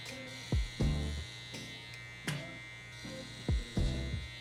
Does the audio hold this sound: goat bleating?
no